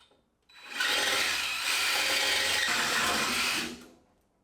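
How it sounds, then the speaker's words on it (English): A power tool cuts into the exhaust system of a Ford Fairlane: a steady, loud, rasping grind that starts after a short pause, holds evenly for about three seconds, then stops abruptly. "it feels pretty weird cutting into a perfectly good exhaust system"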